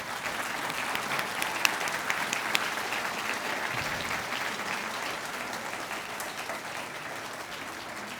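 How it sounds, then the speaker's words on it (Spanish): Sustained audience applause at a conference talk on public transport demand modelling, steady and dense throughout with no pauses, filling the room at an even level. "un aplauso por favor para ellos"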